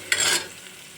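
Chopped onions stirred in a hot pan while frying for a samosa chaat, a short close burst of scraping sizzle lasting a fraction of a second, then a faint hiss.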